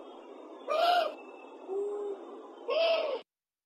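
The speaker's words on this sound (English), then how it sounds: "And then we have a warning call." Warning call of an owl found in Southern Ontario, three loud harsh hooting bursts in quick succession, close and alone, ending abruptly.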